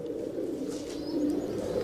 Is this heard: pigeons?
yes